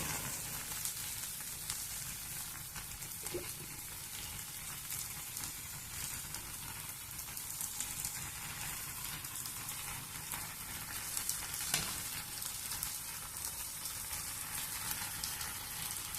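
Potatoes frying in a pan for a home-style potato curry, a steady soft sizzle with faint crackle running evenly throughout, quiet and without speech.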